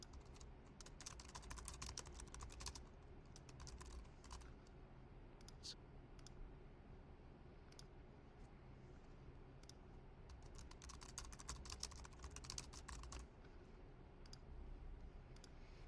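Computer keyboard typing while renaming files, steady bursts of quiet key clicks at close range with short pauses, no talk.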